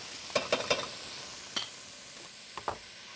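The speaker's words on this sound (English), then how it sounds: "We're going to let these veggies saute for a couple more minutes until they're nice and soft." Leeks and other vegetables sautéing in a pan, a quiet sizzle punctuated by several sharp scraping stirs of a utensil, spaced irregularly.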